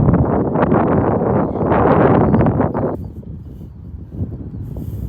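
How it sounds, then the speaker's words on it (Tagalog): Strong wind roars into the microphone as a loud, steady rush for about three seconds, then eases to a lower gusty buffeting. "Malakas yung hangin."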